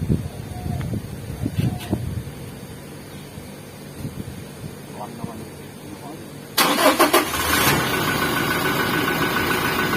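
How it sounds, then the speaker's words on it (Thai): A Toyota Revo pickup fitted with an aftermarket push-start button and smart key remote fires up, with a sudden loud engine catch settling into a steady idle after a stretch of quieter background noise and talk. "ทีนี้ถ้าเราสตาร์ทเครื่องไว้แบบเนี้ย"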